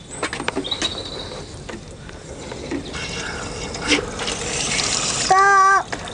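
Water splashes and gushes steadily into a small watering can for geraniums, a continuous trickling pour that runs several seconds, with a brief bright musical tone near the end.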